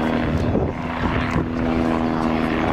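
A German Air Force Bo 105 helicopter flies an aerobatic display at an air show, its rotor and engine giving a steady, loud, throbbing drone throughout.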